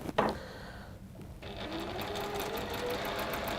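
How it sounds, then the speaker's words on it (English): A sewing machine stitches a seam across the top of joined fabric pieces, a soft, steady mechanical whirring that runs continuously after a brief knock at the start, fairly quiet and close. "And now we're going to just do a seam across the top there."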